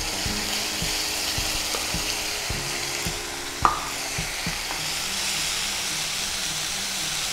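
Tomato puree and achari masala sizzle and fry in a pan for a paneer dish as they are stirred, giving a close, steady hiss with one sharp clink midway and a faint low rhythmic hum behind it.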